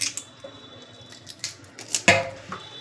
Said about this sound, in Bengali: এবার কেচি দিয়ে এইভাবে কেটে নেব।